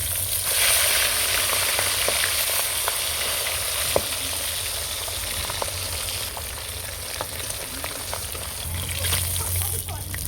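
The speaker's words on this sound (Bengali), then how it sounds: "মাছগুলো আমি লাল করে ভেজে নেবো" Rohu fish pieces frying in hot oil in a pan, a dense, continuous sizzle and crackle with small pops, steady throughout and close by.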